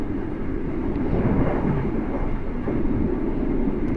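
A steady low rumble and rolling clatter fill the interior of a moving train, continuous and fairly loud with no talk.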